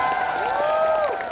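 Convention audience applauding and cheering for the Sandlot cast at a 30-year reunion panel, dense crowd noise with a voice rising over it.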